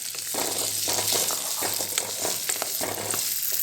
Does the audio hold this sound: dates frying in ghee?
yes